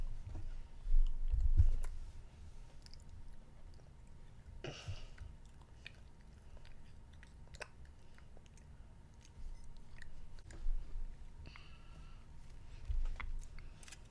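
Chewy Easter candy being chewed close up, soft wet squishing and clicking mouth sounds that come in uneven bursts and pauses, quiet with no talking.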